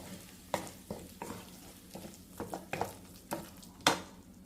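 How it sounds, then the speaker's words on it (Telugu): A spoon scrapes and stirs pudina rice in a pan, giving a series of irregular short scraping strokes over a faint background sizzle, close and fairly quiet, with no talking. "సో ఇప్పుడు దీన్ని ఒకసారి బాగా మిక్స్ చేసేసి"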